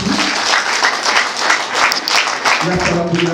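Wedding guests break into loud, close applause after a prayer, a dense burst of clapping that holds steady throughout, with voices briefly audible near the end.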